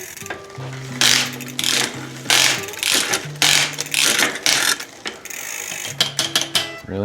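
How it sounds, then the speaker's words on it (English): Ratcheting wrench cranking down the kickstand bolt on a Trek Navigator 200 bicycle, a series of quick clicking bursts in uneven spurts, close and fairly loud with no talk. "Crank down on that kickstand bolt"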